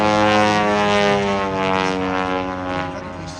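An ultralight Carbon Cub UL aircraft flies at an air show, its propeller engine giving a steady, loud droning hum that holds throughout with little change.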